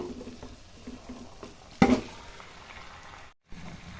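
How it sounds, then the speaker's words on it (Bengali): Chicken drops into a pan of frying masala with a sudden loud burst of sizzling. It eases into a quieter, steady frying hiss, which briefly cuts out before the end. "এবার আমি চিকেনটা দিয়ে দেবো"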